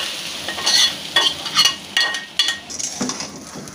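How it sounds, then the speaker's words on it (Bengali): Pumpkin greens are stirred into fried onion and garlic in a hot pan, with a low sizzle broken by several sharp scraping and clinking strokes of a spoon against the pan at irregular intervals. "ভালোভাবে নেড়ে মিক্স করে তারপরে আমি শাকটা নামিয়ে নিব"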